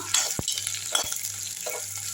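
Green chillies sautéing in a pan for beetroot chutney, with a steady sizzle of frying under a low hum and a few sharp scrapes and knocks of a spoon stirring against the pan.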